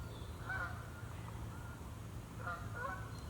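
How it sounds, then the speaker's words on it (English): Greylag geese honking as they fly over a campsite, a few distant calls in two loose bursts over a steady low outdoor hum. "Some geese coming over."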